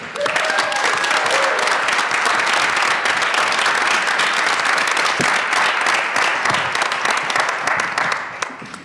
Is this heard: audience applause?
yes